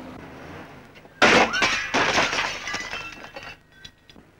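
A car crashes into a lamppost, and a sudden loud burst of shattering glass and crunching impact is followed by several seconds of tinkling, falling fragments that slowly die away.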